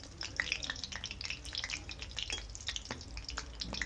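Thin-sliced cabbage fritters coated in besan batter crackle and sizzle steadily in hot oil, with scattered pops and bubbling spits over a continuous frying hiss, close and moderately loud with no talking.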